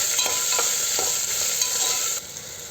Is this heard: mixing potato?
yes